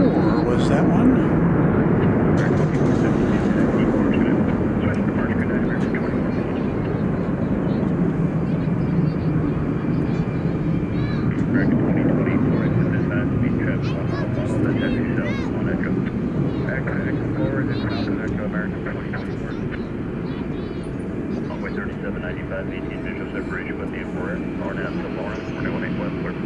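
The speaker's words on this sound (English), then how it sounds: "From Los Angeles, an Airbus A321, American Airlines flight 2024 was that one." An American Airlines Airbus A321 arriving from Los Angeles at DFW Airport at night gives a broad, rumbling jet roar that slowly fades, with radio chatter and wind noise over it.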